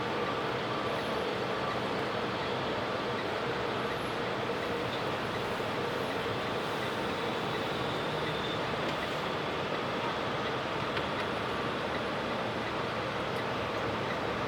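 A Union Pacific intermodal container freight train rolls past at a distance, giving a continuous low rumble with a dense rattling wash of wheels and cars that stays even from start to finish.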